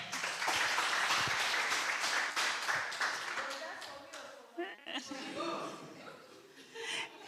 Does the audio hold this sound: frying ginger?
no